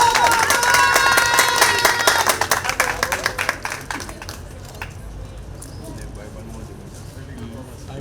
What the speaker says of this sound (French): Applaudissez Emma Laroche.